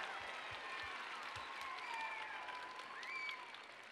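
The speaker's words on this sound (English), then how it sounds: "we really just want to give one more round of applause for all of our Hot Topic speakers." An audience applauds the speakers at a conference, a continuous soft wash of clapping heard at a distance, with faint whistling tones riding over it.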